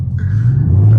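A V6 street racing car's engine roars in a low, sustained rumble that builds steadily over a second, loud and close, with no talk over it.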